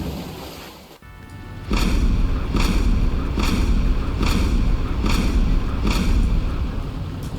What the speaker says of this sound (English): the USS Zumwalt has also received some new shooting sounds with its main cannon